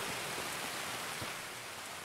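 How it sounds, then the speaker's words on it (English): Steady rain falling outdoors, a soft, even hiss of drops pattering on surfaces, continuous and moderately quiet with no voices. "I heard the rain trickling down."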